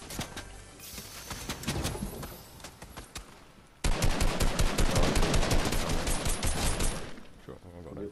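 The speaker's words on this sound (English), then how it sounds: "Where's the shots coming from?" Video game gunfire crackles in dense, rapid bursts through a firefight, starting at moderate volume and then turning much louder and continuous partway through, with voices talking faintly underneath.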